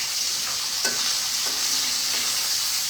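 Fish fries in a pan with a steady, bright sizzling hiss, close and continuous, with a faint stir or scrape near the start.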